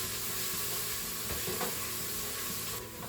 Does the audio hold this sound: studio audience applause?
no